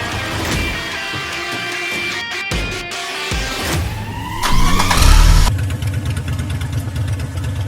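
A BMW M5 E60 V10 cranks and fires up close by, a sharp starter burst swelling into a loud roar, then dropping to a rough, steady idle.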